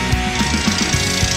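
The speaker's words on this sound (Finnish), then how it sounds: "Seuraavaksi porataan itse kallioon," A drilling rig bores into bedrock for a geothermal heat well. It gives a steady, rough mechanical roar with repeated percussive knocks at a quick, uneven rhythm, close and loud throughout.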